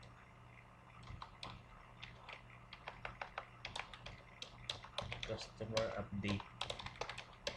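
Someone types on a computer keyboard up close in an irregular flurry of quick clicky keystrokes that grows denser toward the end, with brief pauses between bursts and a few spoken words over it.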